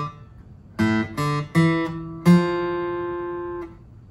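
An acoustic guitar picks out one bar of a song: four clear plucked notes in a quick, uneven rhythm, the last left ringing and slowly fading, close and alone.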